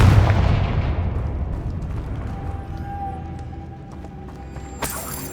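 A Confringo blasting spell goes off in Hogwarts Legacy, a loud booming blast at the start that rolls into a long decaying rumble, with faint chimes and a bright shimmer near the end.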